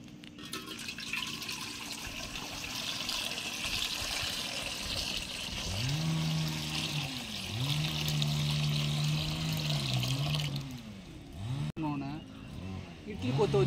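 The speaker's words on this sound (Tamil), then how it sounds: "தண்ணியை ஊற்றிக்கலாங்க." Water is poured into an idli steamer pot, a steady splashing wash that runs throughout, with voices sounding over part of it.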